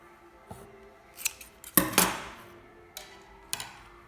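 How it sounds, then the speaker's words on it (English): Scissors snip knitting yarn for a cable headband in a few separate close cuts, with a louder double snip in the middle, in an otherwise quiet room. "You cut the thread a bit long, so then you sew with it."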